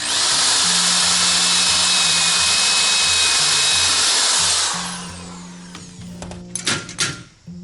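Power drill boring a hole through a boat transom, a loud steady high-pitched whine for several seconds that winds down and stops, followed by a few sharp clunks and handling knocks.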